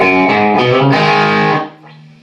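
An electric bass on the bridge pickup with the bass cut plays a few distorted notes in a bright, gritty tone, sustaining loudly before dropping off to a quieter ringing note.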